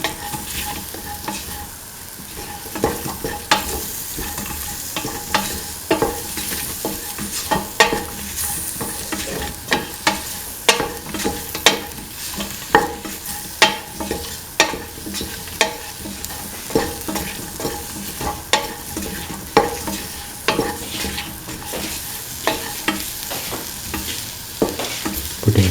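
Spices get stirred into an okra and chickpea coconut milk stew in a pan, a continuous sizzle with repeated scraping spoon strokes in an uneven rhythm over about twenty-five seconds, close and fairly loud, with no talking.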